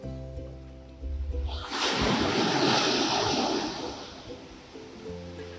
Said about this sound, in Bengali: দূরে সমুদ্রে যেখানে ঢেউ খুব বেশি সেইখানে সার্ফিং হচ্ছে